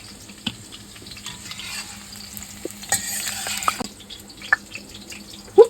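Potatoes frying in oil for a home-style chicken kosha, a steady low sizzle with occasional sharp clinks and scrapes of a utensil stirring in the pan, fairly close and without talk.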